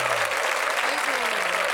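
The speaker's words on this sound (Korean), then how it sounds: "여러분 다시 한번 존경의 박수 여러분" A TV studio audience at a naval academy broadcast breaks into a brief, dense round of applause, loud and continuous, while a voice speaks over it.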